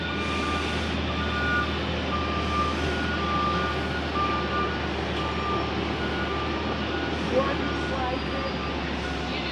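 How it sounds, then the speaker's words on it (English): A dump truck reverses somewhere off in the distance, its backing alarm sounding as a steady string of evenly spaced beeps over a broad, constant rumble of outdoor noise. "Again, sorry for the backing up dump truck."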